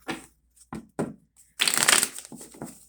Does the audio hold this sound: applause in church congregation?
no